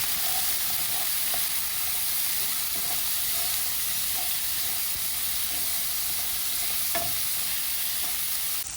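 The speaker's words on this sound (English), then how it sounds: "the vegetables is really sauteing up" Vegetables sauté in coconut oil in a pot for a chickpea and kale curry, giving a steady, even sizzle throughout with a few faint clinks of stirring.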